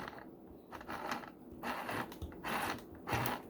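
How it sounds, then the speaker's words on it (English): A tiny green sewing machine runs a few short bursts of stitches, quiet mechanical whirring and clicking in separate spurts with brief pauses between them. "I like to go in and make a couple of stitches and then pull it back"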